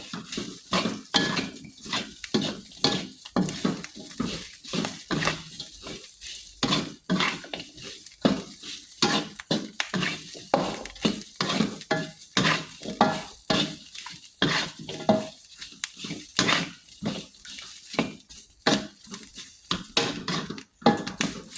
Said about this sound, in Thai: จะคั่วอีกสักพักนะคะ ให้มันเหลืองคนไม่ก็ยิ่งจะได้ความหอม